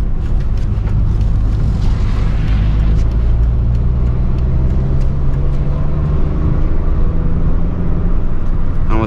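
A small-engined, lightweight Peugeot 206 drives along small roads, its low engine drone steady and close from inside the car, with the occasional faint voice under the road rumble.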